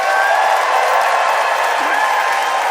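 A live audience at a comedy debate show bursts into loud, sustained applause mixed with cheering and whoops. It is a steady, close crowd roar of many hands that holds unbroken throughout.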